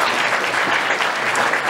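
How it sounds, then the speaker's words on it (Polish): Audience applause at a charity gala honoring television executives, a thick, continuous roar of clapping from a large hall audience, loud and even throughout. "Brawa dla nich."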